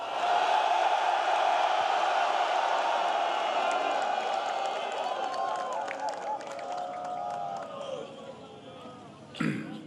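A large crowd at a South Korean Armed Forces Day ceremony cheers and claps for President Yoon Suk-yeol, a steady broad roar that holds near and loud before easing toward the end.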